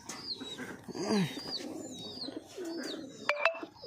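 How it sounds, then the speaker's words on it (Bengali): Pigeons cooing close by, among them a Madras breed kept as high fliers, with soft repeated low coos and a few brief higher chirps over a quiet background. "পায়রাটা প্রচুর ওড়ে"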